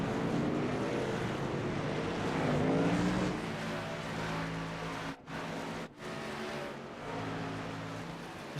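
A pack of race trucks roars past at Circuit of the Americas in a NORA Truck Series race, engines droning loud and layered. The sound swells and shifts pitch as they go by, then cuts out briefly twice, and there is no talking.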